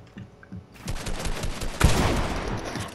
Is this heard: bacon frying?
no